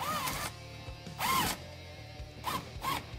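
Short bursts of a ratcheting tool or driver tighten a hose clamp on a heater hose for a cab heater on a Polaris General, four brief whirring pulses, close and fairly quiet.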